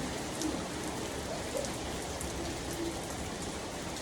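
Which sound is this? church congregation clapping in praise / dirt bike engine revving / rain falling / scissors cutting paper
rain falling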